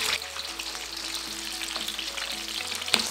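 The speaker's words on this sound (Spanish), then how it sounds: "En el mismo sartén donde freímos nuestro camote vamos a freír nuestro chicharrón con mucho cuidado." Peruvian pork chicharrón frying in a pan that was just used for sweet potato, a dense steady sizzle with faint crackles and a brief sharp pop near the end, heard alone.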